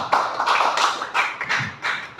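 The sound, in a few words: audience applause for a speaker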